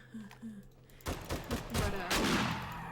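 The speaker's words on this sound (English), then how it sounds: "I'm gonna shoot the zombie first" Rapid bursts of gunfire hit a zombie in a video game, a quick cluster of loud cracking shots after a short quiet lead-in with a brief murmur of voice.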